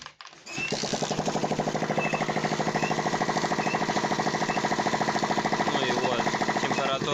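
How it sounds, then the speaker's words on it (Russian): After a brief pause, a small Alpha/Delta moped engine starts up and runs at a fast, even idle, its rapid chugging pulses loud and close throughout. "Вот сейчас я заведу мотор."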